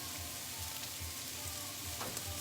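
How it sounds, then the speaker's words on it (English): Onions sauté in a hot pan for rajas, a steady, close, even sizzle and hiss with a faint low rhythmic pulse underneath and no talking. "Saute these onions."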